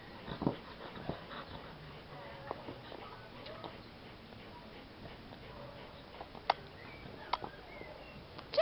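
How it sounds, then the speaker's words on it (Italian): A dog whimpering faintly in a quiet room, soft intermittent whines and small yips spread across the stretch, with a few sharp ticking clicks and low background hiss. "Ciao, cane puzzo."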